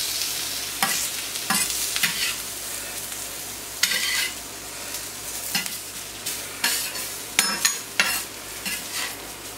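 Ingredients are stirred and mixed in a pan for oriental-style lamb skewers with grilled aubergine: steady sizzling runs underneath while repeated scraping strokes of a utensil come at an irregular rhythm, close and fairly loud, with no speech.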